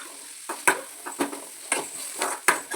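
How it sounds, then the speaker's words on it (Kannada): Onion with cumin seeds fried in a pan, with repeated stirring scrapes and light sizzling bursts at a quick uneven rhythm, close and fairly quiet, with no voices. "ನಾನು ಈರುಳ್ಳಿ ಮೇಲೆ ಜೀರಿಗೆ ಹಾಕೊಂಡು ಫ್ರೈ ಮಾಡ್ಕೊತಾ ಇದ್ದೇನೆ"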